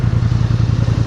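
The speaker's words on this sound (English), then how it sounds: "Kill the motor real quick." An ATV motor running at an ATV park, a loud close rapid low throbbing idle with a steady pulsing rhythm.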